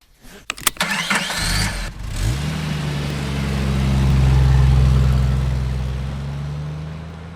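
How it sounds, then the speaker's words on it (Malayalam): A Hyundai Venue N Line starts with a few clicks and a short crank, then catches into a close, loud steady engine note that swells slightly in the middle before easing back. "നമ്മൾ വെന്യൂ N-ലൈനെ ഒന്ന് ഡ്രൈവ് ചെയ്യാൻ എടുത്തിരിക്കുകയാണ്."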